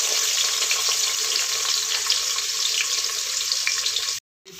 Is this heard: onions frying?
yes